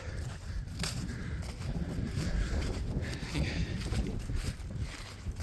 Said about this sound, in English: The wind is blowing in